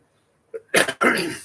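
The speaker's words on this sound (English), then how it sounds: "sorry, a little cough" A short throat-clear followed by two harsh, close coughs in quick succession.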